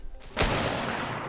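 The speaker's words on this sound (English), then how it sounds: "I guess I'm going to use a hunting rifle again" A single loud, close hunting rifle gunshot in the stealth video game TEARDO, a sharp blast followed by a long sustained rumbling echo that decays slowly.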